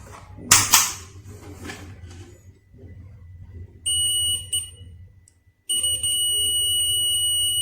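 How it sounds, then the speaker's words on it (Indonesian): A DT-83B digital multimeter's continuity buzzer sounds a steady, piercing electronic tone in two bursts as the red and black probes touch, following some handling clatter. "Kalau kita satukan ini, kabel merah dan hitam ini akan menimbulkan suara ya."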